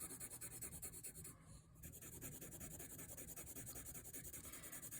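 Graphite pencil scratching across paper while shading a value scale, a steady, close, rasping rub with even back-and-forth strokes and a brief pause partway through.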